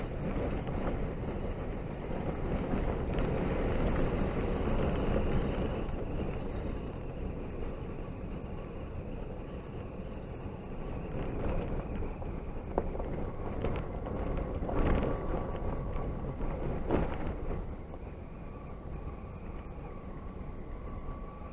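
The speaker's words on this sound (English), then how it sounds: "Breezy over here without all those trees blocking that wind." Steady wind gusting across an open trail in Picayune Strand State Forest, heard as a broad continuous roar buffeting the microphone, with a low rumble, probably from a 2016 Jeep Wrangler JKU Rubicon Hard Rock edition, underneath.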